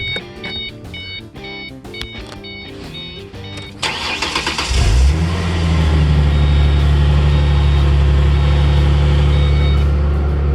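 Ford Mustang engine starting on a cold morning: a chiming warning tone and starter cranking give way to the engine catching and settling into a loud, steady idle rumble up close.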